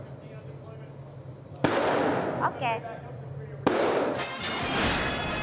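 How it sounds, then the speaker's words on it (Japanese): Loud video game gunfire in a gun-for-hire shooter, abrupt sharp bursts with ringing decay that swamp the mix, while people talk and react over it. "銃声が大きすぎてパフィーの声が全然聞こえません。"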